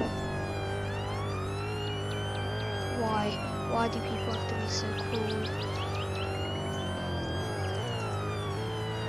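An ambulance siren wails and sweeps continuously in a roleplay video game, loud and steady over a low engine hum, while a person speaks over it.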